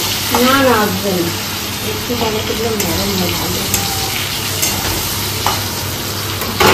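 Fish curry simmering in a pan after the fish has been fried, steady sizzling and bubbling throughout at close range, with a voice talking over part of it.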